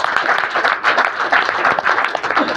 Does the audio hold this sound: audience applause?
yes